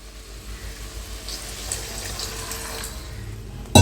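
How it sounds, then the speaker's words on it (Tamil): Water pours from a vessel into an egg tikka masala curry cooking in oil in a village-style kitchen, a steady soft splashing rush that swells slightly and ends in a brief clatter. "திட்டமான தண்ணி சேர்த்துக்கணும்"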